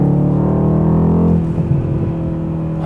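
A Mercedes C63 AMG engine and loud exhaust hold a steady, close drone that drops in pitch and eases slightly partway through the short burst.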